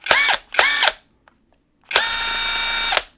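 A cordless brushless 1/2-inch 20V impact wrench whirs in short bursts: two quick spins, a pause, then one longer run, loud, close and without impacting, no speech.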